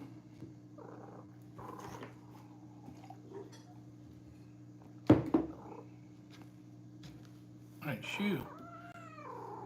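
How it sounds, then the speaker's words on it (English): House cat lying on someone's belongings, purring in a steady low drone with a few soft meows, faint and close, under a man's brief speech and some handling noises. "This cat is laying up all over my stuff."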